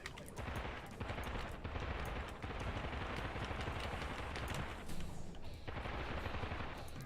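Rapid machine gun fire from the first-person shooter Immortal Redneck rattles in long, nearly continuous bursts with only brief pauses, loud and close, with no voices over it.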